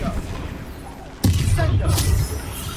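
The Confringo explosive spell in Hogwarts Legacy, a sudden sharp blast followed by a rumbling burst that fades over about a second, close and loud, with a player's voice calling out over the game sounds.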